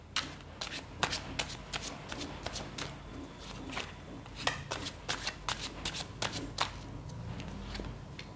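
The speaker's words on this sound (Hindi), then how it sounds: "जब तक मैं कार्ड शफल कर रही हूं" Tarot cards being shuffled by hand, a steady run of crisp riffling and slapping bursts, close and fairly quiet, with no talking.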